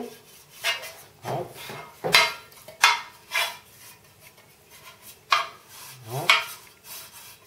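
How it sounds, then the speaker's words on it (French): A pastry brush spreads melted butter around a cake tin, making a series of uneven rubbing strokes and light knocks against the metal, with a short spoken exclamation mixed in. "avec du beurre fondu, donc avec un pinceau, bien en mettre partout"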